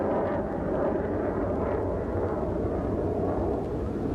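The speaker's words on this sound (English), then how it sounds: "A number of helicopters overhead right now." Helicopters circle overhead a few blocks from the World Trade Center site in New York, a steady, muffled low drone of rotor and engine noise that holds at moderate loudness from a distance without any talking.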